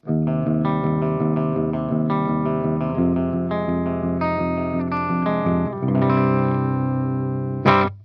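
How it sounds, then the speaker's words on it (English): Electric guitar through a 5150 amp with a warm, clean tone playing sustained chords and notes, edging slightly toward breakup, steady and loud with no talking. "this gives us a really warm, clean tone that's very close to the edge of breakup"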